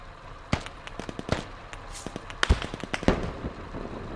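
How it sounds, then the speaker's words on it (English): Gunshots ring out in the military shooter game Squad, a scattered series of sharp cracks and pops at varying distance with uneven spacing, some louder reports standing out among fainter distant ones. "Shots being fired on Lodgy position."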